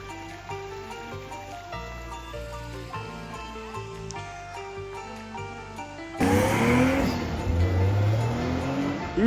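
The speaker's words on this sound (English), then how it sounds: "Even in the mountains, you have crazy cars." Cars rev and speed along a mountain road, a loud engine roar surging in partway through after quieter music-like tones, close and continuous.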